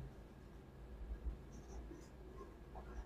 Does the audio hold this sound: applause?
no